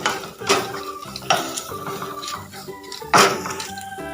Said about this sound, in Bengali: এবার সবগুলোকে ভালো করে একবার মিশিয়ে নেবো